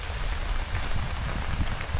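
Steady rain falls on a rainy-season day at a riverside char village in Bangladesh, a dense, even hiss with soft low pattering that continues throughout without pause or voices.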